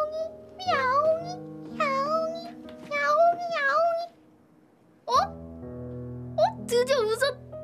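A person imitates a cat with a run of playful, high, rising meows, about five calls with a pause in the middle, close and clear over a low background tone.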